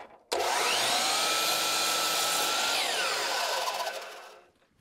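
An AC-powered miter saw runs off a Bluetti AC200L portable power station, starting abruptly into a loud, steady whine for about four seconds before spinning down and fading out.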